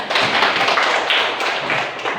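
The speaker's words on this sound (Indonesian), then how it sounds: "Tepuk tangan kelompok 3." A class of students claps for a presenting group, a brief, dense burst of many hands that stays loud and close for about two seconds.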